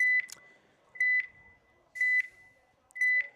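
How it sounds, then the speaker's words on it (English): At a paintball field before a tournament game starts, a countdown timer gives four loud, clear electronic beeps about one second apart, each a steady tone, with quiet between them. "You should hear the beeping."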